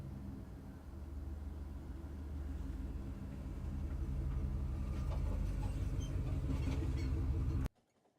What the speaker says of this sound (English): Neighbor car going got by, kind of slow, kind of loud.